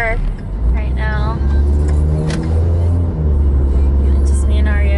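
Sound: inside a moving car while driving

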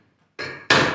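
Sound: hammer striking cold chisel on metal

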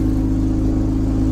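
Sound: loud car engine revving

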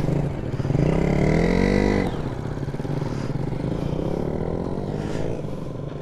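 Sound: Benelli motorcycle riding off

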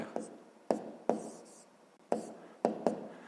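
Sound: writing point coordinates by hand

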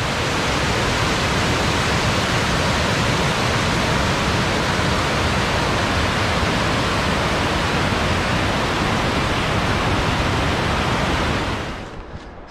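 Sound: glacier runoff stream rushing water at Joffre Lakes

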